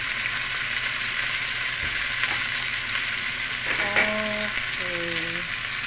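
Potatoes fry in a pan for beef kafta, giving a loud, steady close sizzle with occasional scraping as they are stirred, and a faint tonal sound near the end.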